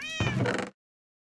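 A cat in the video game Minecraft gives a single clear, close meow, rising and then falling, with nothing else under it before it cuts off abruptly.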